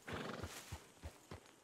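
Horse hooves clip-clop in a steady, evenly spaced rhythm in Red Dead Redemption 2, with a faint, soft whinny underneath, quiet and a little distant.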